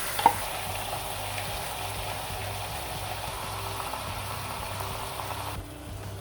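Tomato and green chili paste frying in a pot, a steady close sizzle with soft bubbling and a brief clink near the start, continuous and without talk.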